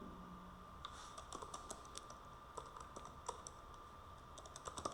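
Keys clatter in irregular bursts as someone types on a computer keyboard at a desk, with quick clicks scattered across the span over a faint steady background hum; no one speaks.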